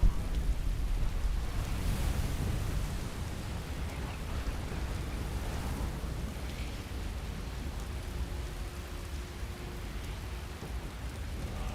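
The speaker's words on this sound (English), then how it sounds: "Let's get that lightning in the background." A thunderstorm in the video game Skyrim brings steady rain hiss and low, rolling thunder rumbles that fade slightly after the start, with no speech.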